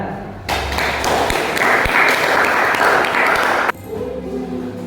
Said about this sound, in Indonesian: Ya, baik, tepuk tangan.